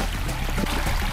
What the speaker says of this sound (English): The stream sort of bubbling up here.